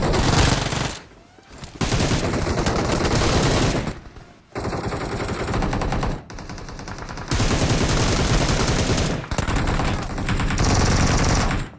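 Rapid bursts of automatic gunfire from a battle royale squad match crackle loud and close, coming in dense volleys that stop abruptly for short gaps and then resume repeatedly.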